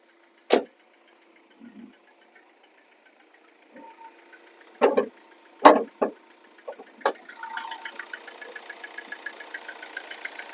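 A few sharp knocks and clunks break the quiet before a Hyundai i20 Asta diesel car's engine starts and settles into a steady, rattly idle close by, with no talk.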